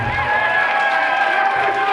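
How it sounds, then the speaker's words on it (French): Wedding guests at a religious wedding ceremony cheer and applaud the couple, a dense, steady wash of crowd noise with voices shouting over it throughout. "pouvons applaudir pour les mariés"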